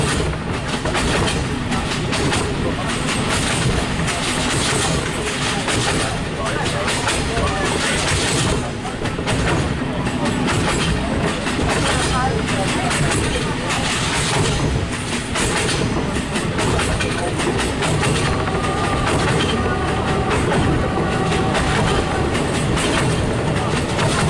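Romanian regional train R16125 on the Timișoara Nord to Peciu Nou line rolls steadily along the rails with continuous loud clickety-clack and rumble, wheels occasionally squealing, heard from on board.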